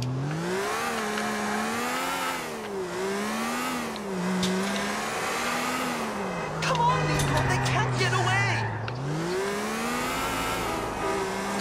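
A car engine in GTA 4 repeatedly revs up and shifts, its whine rising and falling in waves with a brief rattle of impacts in the middle, under someone talking excitedly.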